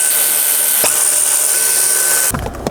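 A power tool runs loud and steady, removing dashboard bolts from a car during a Sirius satellite radio tuner install, with a brief break in the whine and a change in pitch near the end.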